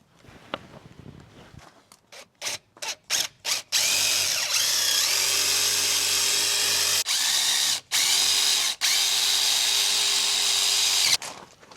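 An impact drill rattles in bursts, with several short pulses followed by a long, loud, steady run that stops briefly and restarts, close by.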